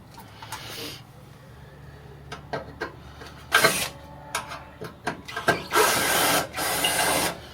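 Screws being loosened on a sup-light 5x7 7x6 LED headlight mounting: a series of short ratcheting and clicking bursts, sparse at first and then denser and longer near the end, close and fairly loud.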